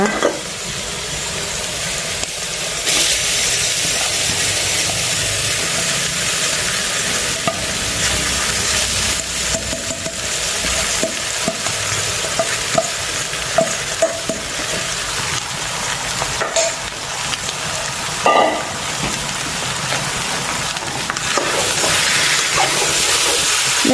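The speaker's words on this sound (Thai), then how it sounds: "นำข้าวเราลงไปคลุกเลยนะคะ" Rice being stir-fried in a pan over medium heat for a mixed fried rice, a continuous close sizzle with repeated scraping and tossing strokes and occasional knocks of the spatula.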